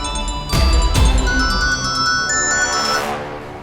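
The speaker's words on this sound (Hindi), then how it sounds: "फोन की आवाज आ रही है" A phone's melodic ringtone plays nearby in a bright, tonal pattern, with two sharp thumps near the start and the tune fading out at the end.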